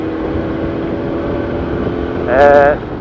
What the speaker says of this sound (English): Started her up and I could hear the exhaust was blowing a bit